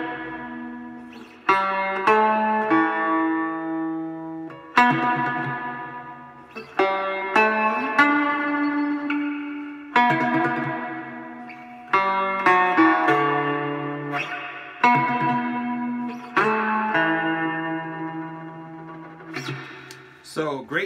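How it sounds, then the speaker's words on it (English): Electric guitar chords and single notes ring out with a lush reverb tail, each strum decaying slowly into the next, no talking. "Some reverb."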